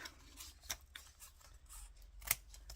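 Scissors snip through paper while trimming a lace journal card, a few quiet, separate cuts at close range with one sharper snip near the end.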